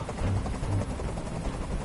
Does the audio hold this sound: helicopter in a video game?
yes